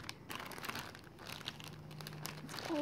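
Plastic wrapping around a PSX DualShock controller bundle crinkles and crackles steadily at close range for a few seconds, with a brief low hum partway through and no speech.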